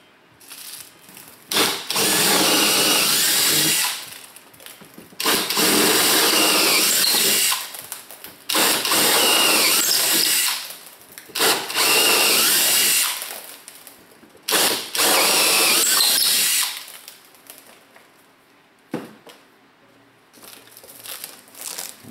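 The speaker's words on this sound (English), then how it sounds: "now I'm just going to run through with the larger drill bit" Power drill with a larger bit boring drainage holes through a pre-drilled 1:50 scale British Upholder RC submarine hull, loud repeated bursts of whining drilling and crunching, several separate passes with short pauses between.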